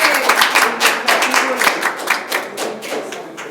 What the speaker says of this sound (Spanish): Hay un aplauso.